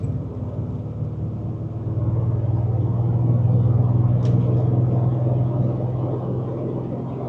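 A 1976 Chevrolet Silverado C20 crew cab with a 454 cubic-inch V8 drives along, its steady low engine rumble swelling as it accelerates and holding loud and even throughout, with no talking.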